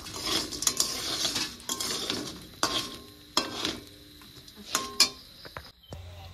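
Whole panch phoron spices, bay leaf, green chilli, garlic and a little onion go into hot oil, giving a steady low sizzle broken by repeated clinks and scrapes of a metal spoon against the pan, close and fairly quiet.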